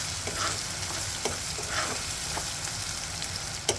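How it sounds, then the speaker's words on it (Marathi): Tomato and onion sauté in a pan, producing a continuous close sizzle with occasional stirring scrapes and soft clicks, no one talking. "टोमॅटो आपण थोड्या वेळा परतून घेऊया हे बघा आपले टोमॅटो किती छान परतून राहिले"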